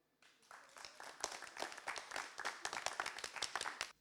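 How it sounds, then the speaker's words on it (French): An audience applauds a slam poetry performer, faint at first and then swelling into rapid, overlapping claps from a crowd heard at some distance. "On applaudit Nicolas Frichot, mesdames et messieurs"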